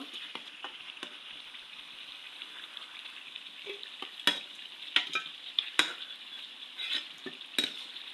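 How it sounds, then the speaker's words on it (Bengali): Meat sizzles in a pan over a steady frying hiss, punctuated by repeated sharp scrapes and clinks of a spatula stirring, growing busier and louder toward the end; no voices. "বন্ধুরা, কয়েক মিনিট এইভাবে ভেজে নিব।"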